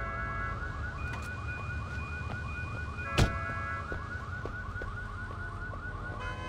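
A fire truck siren in the video game Sleeping Dogs warbles in a fast, steady oscillating pattern at moderate distance, with a sharp bang partway through over low rumbling traffic.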